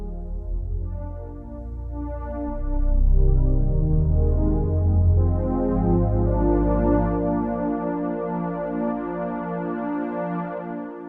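Roland JX-8P and PG-8X synthesizer patches sustain together in rich, evolving chords, warm low notes beneath brighter harmonics, steady and fairly loud with no voices.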